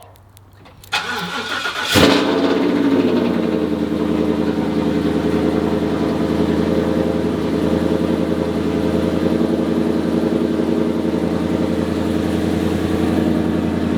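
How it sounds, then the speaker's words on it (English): A Ford Raptor with a Corsa Extreme exhaust cold starts with a sharp crank and bark, then settles into a loud, steady, rumbling high idle that runs alone to the end. "let's get a cold start. Corsa Extreme"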